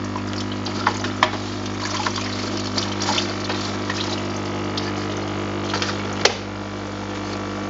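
Rinse water runs steadily over a freshly developed PCB, a continuous splashing flow under a low mechanical pump hum, with a few brief clicks and one sharp knock near the end.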